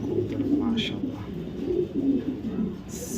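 A red checker racing hen pigeon from 2022 coos softly and close, low rolling calls repeating over a steady background hum.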